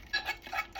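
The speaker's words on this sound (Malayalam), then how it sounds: "നന്നായിട്ട് മിക്സ് ചെയ്തെടുക്കാം." Mango pickle with mustard seeds being stirred in a vessel, giving a few quick, soft scraping and clinking strokes close by, with no talk.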